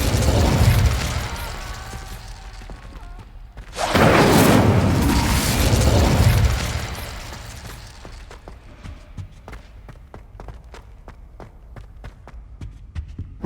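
A fire spell cast in Hogwarts Legacy: a loud whooshing burst of flame lasting a couple of seconds, with quieter footsteps and rustling before and after.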